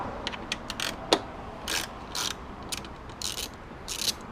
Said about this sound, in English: you're going to have two more T30 bolts to remove to get the headlight out